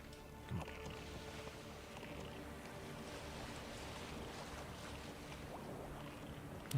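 Oars rowing a ramshackle wooden boat across water in The Witcher 3: Wild Hunt, a steady soft sloshing and lapping with a couple of louder splashes, no voices.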